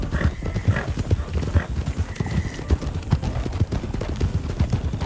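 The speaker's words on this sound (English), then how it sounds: "we got a horse behind White horse behind us" Horse hooves clip-clop in a steady, close, rhythmic gait in Red Dead Redemption 2 roleplay, with a faint neigh and other game sounds mixed underneath.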